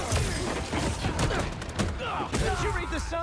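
Gunfire in Marvel's Spider-Man 2, a loud rapid fusillade of overlapping shots with thuds and mechanical clatter, continuous and close, with voices mixed in.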